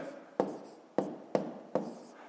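Chalk or pen writes numbers by hand during a fifth-grade math lesson, four sharp tapping strokes each followed by a short scratchy trail, close and clear with no talking.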